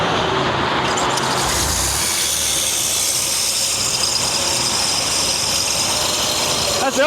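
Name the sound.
van engine starting and idling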